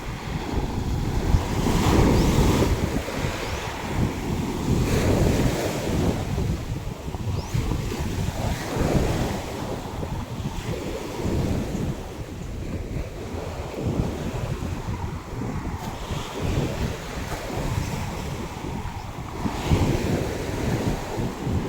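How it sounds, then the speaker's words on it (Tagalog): Strong seawater waves hit a mangrove shore at low tide with heavy wind buffeting the microphone, giving a continuous rough roar of surf with irregular surges and no voices. "medyo may kalakasan ng hampas na tubig dagat"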